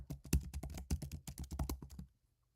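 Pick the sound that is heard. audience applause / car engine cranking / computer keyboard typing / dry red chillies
computer keyboard typing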